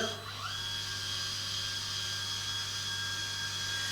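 A steady, high-pitched electric tilt motor on a shower chair hums continuously, fairly quiet and close, with a slight rise in pitch at the start.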